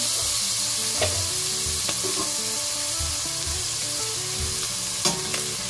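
Chicken browns in a cooking pot with a loud, continuous sizzle and frying hiss, broken by a few stirring scrapes and clinks, with no voices.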